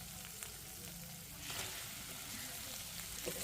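Fried eggs dropped into a sizzling spice masala for steamed egg curry, giving a steady frying hiss that swells partway through, with a few soft knocks and no talking.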